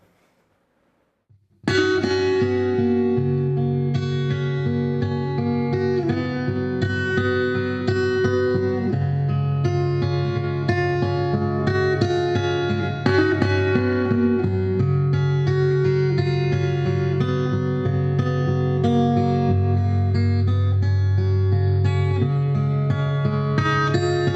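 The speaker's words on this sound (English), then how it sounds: "Here's another preset using a spring reverb." Acoustic guitar chords and melody played steadily, drenched in a splashy, metallic spring reverb that gives a wet, sustained tail.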